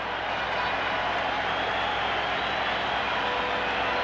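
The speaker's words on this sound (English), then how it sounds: "Crowd noise building. They want to see strike 3." A packed baseball stadium crowd at Game 3 of the 1983 World Series between the Orioles and Phillies keeps up a steady, dense roar that swells and never drops away over the whole stretch.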